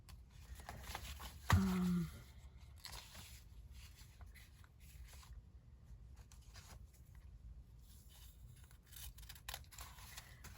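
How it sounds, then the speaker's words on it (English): Scissors snip through a strip of paper ruffle trim in one brief, close cut, followed by faint handling rustles and near silence. "So let's just cut a piece off."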